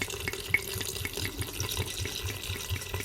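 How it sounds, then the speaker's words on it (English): Red wine glugs from a bottle into a cooking pan in a quick, rhythmic run of soft pulses, faint and close, with no talking. "now I'm gonna add the red wine"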